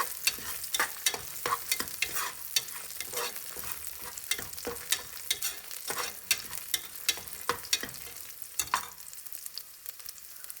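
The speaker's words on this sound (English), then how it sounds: "make sure that you're frying these ingredients on low heat" Ginger and garlic sizzle gently on low heat in a pan while a utensil stirs and taps repeatedly, a steady crackling hiss with scattered scraping clicks, close and moderately quiet.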